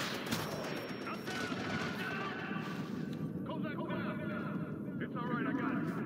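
Shotgun fire and other gunfire in a Ghost Recon Future Soldier Guerrilla Mode office mission, dense and continuous, with game voices talking over the combat.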